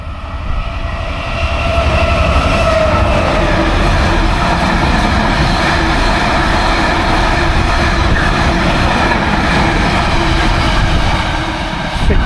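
A Freightliner freight train rolls through Alfreton railway station on a Sunday morning, its wagons producing a loud, steady rumble and clatter that holds for the whole stretch with no break, and no one speaks over it.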